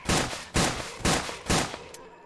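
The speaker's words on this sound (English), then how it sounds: "So this is the 5-shot semi-automatic shotgun." A five-shot semi-automatic FRKS shotgun fires in Survive the Nights, four loud, evenly spaced blasts about half a second apart, each decaying quickly, followed by a faint fifth click-like shot.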